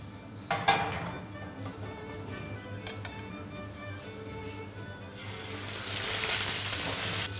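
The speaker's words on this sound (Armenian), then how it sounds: "Սկզբից տապակում ենք ներսի կողմը 2-ից 3 րոպե" A trout fillet sizzles steadily in a frying pan, with a few sharp utensil clicks and knocks. The frying swells into a louder, hissing burst toward the end.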